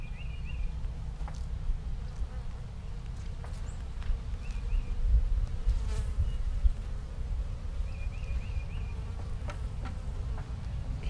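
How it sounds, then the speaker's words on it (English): Honeybees buzz steadily over a hive frame fed with sugar syrup, a dense close drone with occasional individual bees passing nearby, continuous and fairly quiet with no talking. "Then the bees are on the frame."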